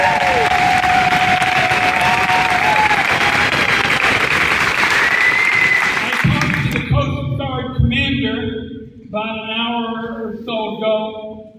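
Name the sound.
town hall audience applause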